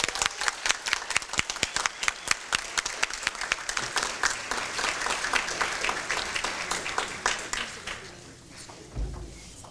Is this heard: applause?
yes